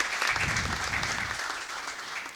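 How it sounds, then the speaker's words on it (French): Audience applause following a stage introduction, steady dense clapping that fills the whole moment, loud at first and easing slightly toward the end, with no voices over it. "Vos applaudissements, s'il vous plaît."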